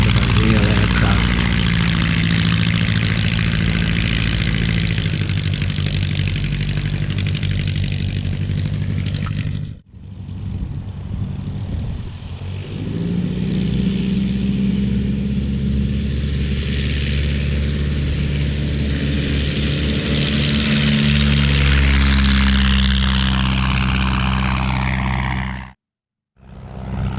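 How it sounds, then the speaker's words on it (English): Light vintage propeller aircraft, an Aeronca with a 65-horsepower engine, droning loudly and steadily nearby with a strong low harmonic hum, broken by two brief cuts. "Sound of a real aircraft."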